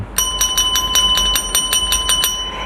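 A bright notification bell sound effect chimes about ten times in a quick, even run, each ring clear and ringing, loud and alone.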